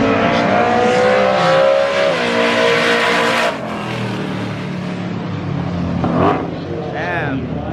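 Race cars passing at a drag strip, with a loud engine rising in pitch as it revs past, then quieter engines approaching and fading.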